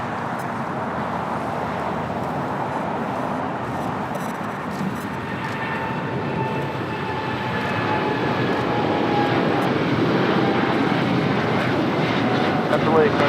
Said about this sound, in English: The Polar Air Cargo 777 freighter heading to Cincinnati CVG.